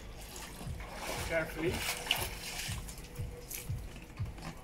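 Water sloshes, trickles and drips as a surfboard is turned and lifted out of the sea onto rocks, a close, irregular splashing under a voice.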